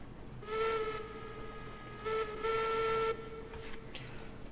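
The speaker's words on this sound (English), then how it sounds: "I don't think the whistle actually uses any of the boiler pressure here" Steam locomotive whistle in Railroads Online, three harmonic blasts with a soft hiss: a long first blow, a short pip, then a longer sustained tone, heard alone.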